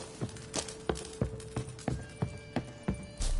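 Horse hooves clip-clop in The Witcher 3 at a steady walking rhythm, with about eight to nine distinct, fairly close hoof strikes spaced evenly over a low ambient hum.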